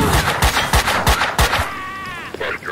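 Rapid gunfire in a shooter game: about eight sharp, loud shots in an even burst over the first second and a half, then a warbling electronic tone with scattered clicks.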